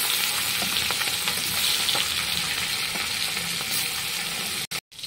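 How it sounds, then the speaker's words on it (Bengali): Fish frying in oil in a kadai, a steady broadband sizzle with occasional stirring scrapes, close and continuous, cutting out briefly near the end. "মাছগুলো আমি নাড়িয়ে চাড়িয়ে সব ভেজে নিয়েছি"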